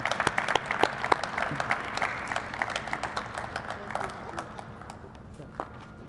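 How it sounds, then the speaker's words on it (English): Audience applause for Nancy Skinner at a clean power awards event, a burst of dense clapping from a crowd that thins into scattered claps and fades away. "how about a round of applause for Nancy Skinner?"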